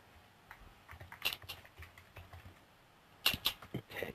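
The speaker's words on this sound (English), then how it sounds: "I heard you typing." Quiet, irregular tapping on a computer keyboard during a Minecraft building session, small clusters of keystrokes with brief pauses and a louder burst near the end.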